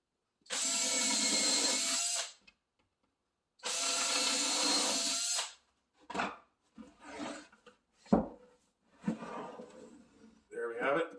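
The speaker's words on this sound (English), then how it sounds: "And I'm hitting it with a drill countersink combo." A power drill fitted with a countersink combo bit bores into cabinet wood during kitchen cabinet assembly, two sustained loud whirring bursts of about two seconds each, followed by quieter handling clatter.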